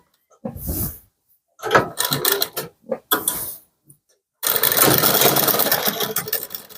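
Sewing machine stitching a side seam on a kurti, with short bursts and clacks of the mechanism followed by a longer steady running stretch at the end.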